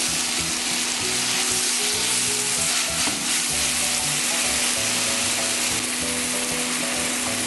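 Onions and diced plum tomatoes frying in a pan, a dense, loud, unbroken sizzle close up with a faint steady hum beneath and a single clink partway through, no voices.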